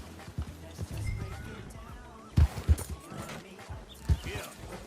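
Horse in Red Dead Redemption 2 refusing a jump, with heavy thuds of hooves and a few sharp bursts around the middle and end, mixed with in-game noise and some talk.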